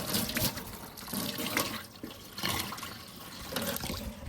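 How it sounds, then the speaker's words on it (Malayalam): Cold water running steadily from a tap at a hilltop viewpoint building in Wayanad, a close, continuous rushing splash with slight fluctuations in flow and no speech. "ഇതിൽ നല്ല തണുപ്പുള്ള വെള്ളം വരും."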